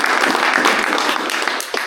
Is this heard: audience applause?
yes